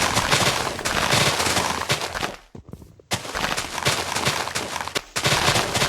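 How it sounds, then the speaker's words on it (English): Shears snip through leaf blocks in Minecraft in quick continuous bursts of crisp, crackly rustling, loud and dense, broken by a short pause in the middle, with no voice. "I clipped along and used these shears until the very last minute."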